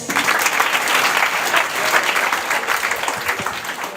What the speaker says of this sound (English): Can we clap for our parents?